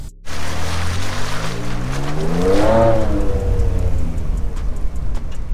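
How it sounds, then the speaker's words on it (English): A 2023 next-generation Ford Ranger Raptor drives slowly off-road in four-high, its engine rumbling loud and close as the revs climb and fall, with tyre and wind noise and no talk. "So bringing the Raptor down here, just testing all the drive modes out, I'm currently in, in off-road, I'm just in four high."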